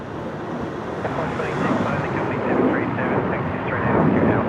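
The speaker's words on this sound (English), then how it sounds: "the Qatari 777 just about to touch down on 19er right." A Qatar Airways Boeing 777 touches down on runway 19 right at Brisbane Airport, its broad, steady roar swelling gradually over wind buffeting a distant outdoor microphone.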